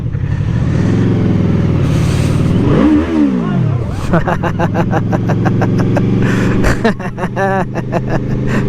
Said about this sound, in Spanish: para que vean cómo suena la moto, para que traten de sentir también desde sus casas cómo acelera